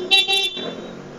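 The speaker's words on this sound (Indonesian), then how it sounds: "Klakson masih sangat keras ya, karena sangat kencang suaranya." A horn on a used Yamaha Aerox motor scooter sounds in two loud, close bursts, a longer blast and then a shorter double toot, leaving a low background hum after them.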